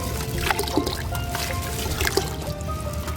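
Water from a glass being poured into a plant fertilizer solution for home gardening, a soft steady trickle and splash running for about three seconds at close range with no talk.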